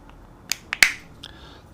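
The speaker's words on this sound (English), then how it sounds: "The nice sound when everything snaps together right" Parts of a Yokomo Super Off-Road SO2.0 2WD RC buggy snap together during assembly, giving three or four quick, sharp plastic clicks close up in a quiet room, the last one loudest.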